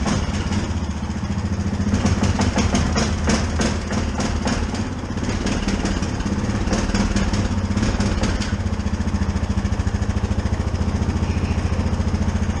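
A Yamaha Grizzly 660 ATV engine labors while trying to back up in reverse, a loud, close, rough running drone with uneven stuttering pulses that fail to smooth out.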